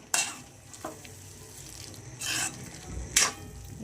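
Smashed paneer roasts in oil in a pan, a faint, low sizzle broken by a few short scraping bursts from stirring, with no voices.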